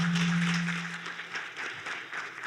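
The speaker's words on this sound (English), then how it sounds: "let's give her a round of applause" An audience at a women's health event breaks into applause, a dense patter of clapping that fades slightly, with a steady tone at the start.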